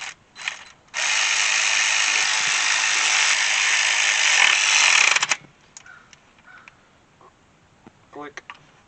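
A ratcheting torque wrench tightens a bolt on an E36 325i sedan during a fan delete, giving a loud, steady burst of rapid ratchet clicks lasting a few seconds, followed by quieter scattered clicks and taps.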